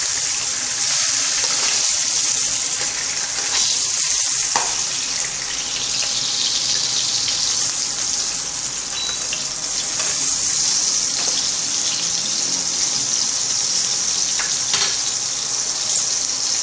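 Steak frying in plenty of butter in a tilted pan, a loud continuous sizzle with crackling spatter that holds steady throughout, close up and with no voices.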